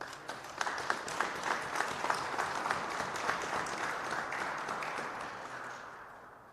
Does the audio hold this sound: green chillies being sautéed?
no